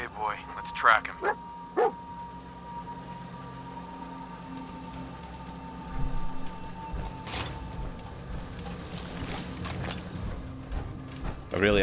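A dog in the Fallout 4 video game barks a few times early on, short sharp yips fairly close, followed by quieter game ambience with scattered sounds while someone talks.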